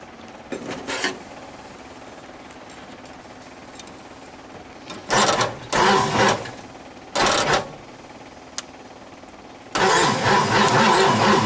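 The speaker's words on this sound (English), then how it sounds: "Well, she tried to start there." A 1959 Ford Fairlane 500 Galaxy, not started in over 20 years, cranks in several loud separate bursts with quiet pauses between, its engine straining and trying to catch without settling into a steady run.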